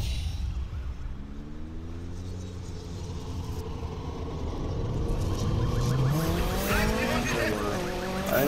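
A police car from Need for Speed 2015 drives with a steady engine rumble, its rising engine tones and tire squeals building louder in the later seconds, with no talk over it.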